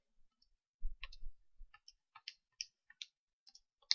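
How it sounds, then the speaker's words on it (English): Calculator keys being tapped to enter numbers for a cylinder surface-area calculation: a string of quiet, crisp clicks spaced unevenly over a few seconds, close and faint with a couple of soft thumps, no talking. "type it into a calculator"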